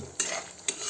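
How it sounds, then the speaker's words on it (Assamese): Chicken for creamy methi malai chicken is stirred in a kadai: two sharp scrapes of the spoon against the pan, close and loud, over a steady sizzle of frying. "এইখিনি আমি অলপ লাৰি থাকিম"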